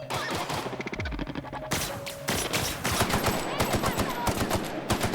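An assault rifle fires in The Outer Worlds in rapid, loud automatic bursts with crisp repeated shots and short pauses between volleys, with no voice over the gunfire.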